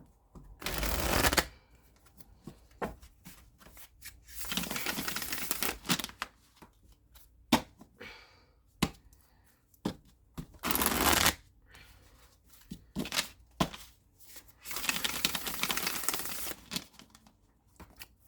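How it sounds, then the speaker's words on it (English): Starseeker tarot cards being shuffled on a cloth, several bursts of riffling and sliding card noise separated by quiet gaps and light taps, close and fairly soft, with no talking. "I'm going to go ahead and awkwardly try and shuffle this."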